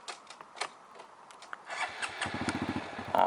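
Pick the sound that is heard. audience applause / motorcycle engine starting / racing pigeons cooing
motorcycle engine starting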